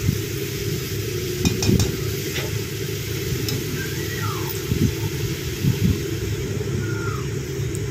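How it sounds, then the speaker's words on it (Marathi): Four large onions fry in hot oil in a pan as they are stirred, giving a constant loud sizzle broken by scattered scrapes and clinks of the spoon against the pan. "आता कांदा हलवून घेऊ आपण थोडा।"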